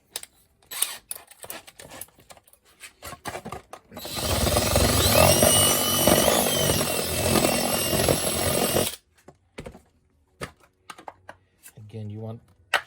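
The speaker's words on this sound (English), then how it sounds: "The stepper bit again." A stepped drill bit bores through material for about five seconds in a loud, steady whir, with shorter clicks and handling knocks before and after.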